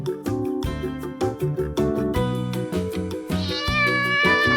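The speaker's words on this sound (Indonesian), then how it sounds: "kucing" A cat meows repeatedly in short, close, fairly loud calls, ending in a longer drawn-out meow, with no other sounds around it.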